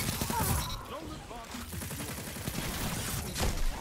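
Rapid bursts of submachine gun fire in a video game, loud and close, with repeated dense volleys across the clip, heaviest near the start and again toward the end.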